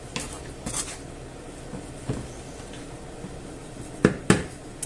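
Meatballs with a glass of wine mixed in a pan over medium-high heat, scattered clinks and scrapes of a utensil against the pan over a low simmering background, with a couple of sharper knocks near the end.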